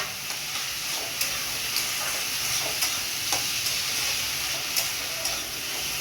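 Papaya frying with green chili and ginger paste crackles and hisses in a pan, with repeated sharp stirring knocks at irregular intervals over the steady sizzle.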